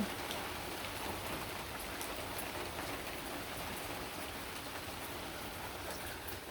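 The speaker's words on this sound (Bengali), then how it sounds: "বৃষ্টি নামছে তাও থাইমে নেই" Steady rain falling continuously in Tangail, Bangladesh, a soft even hiss of drops on surfaces with no voices.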